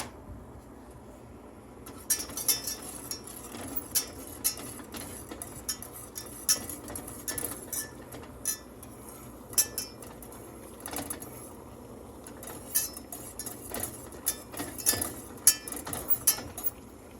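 A metal spoon stirs a tablespoon of sugar into a glass cup for rock candy, giving quiet, irregular clinks and scrapes against the glass that repeat for about fifteen seconds over a soft background hiss.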